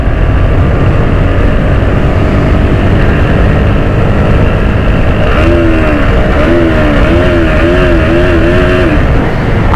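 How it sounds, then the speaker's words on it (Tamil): Bajaj Pulsar NS125 motorcycle with an underbelly exhaust, heard while riding: a loud, steady engine drone with a wavering tone partway through, continuous and close with no talking. "சவுண்டு தான் பாருங்க, அந்த அண்டபல்லி எக்ஸாஸ்டோட அந்த சவுண்டு வேற லெவலு"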